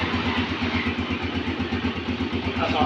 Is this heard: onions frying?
no